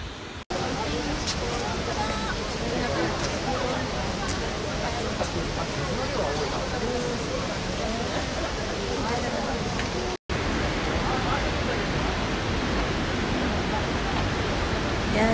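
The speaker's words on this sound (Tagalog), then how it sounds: "Ito ang Kegon Falls." Kegon Falls in Nikko, Japan, a waterfall heard as a dense, steady roar of rushing water, loud and unbroken except for two brief cuts, with crowd chatter faintly mixed in.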